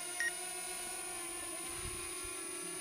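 Small drone lifting off with propellers whirring, a steady high-pitched buzzing whine holding constant throughout, with a couple of faint handling knocks beneath it and no talking.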